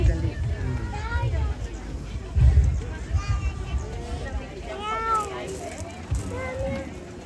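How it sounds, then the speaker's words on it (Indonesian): Several cat meows rise and fall over a busy background of murmuring voices and low rumble, some calls overlapping one another. "Kucingnya miau."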